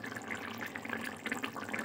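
Water is poured into a chicken curry in a pot, a continuous close gurgling, splashing stream for under two seconds.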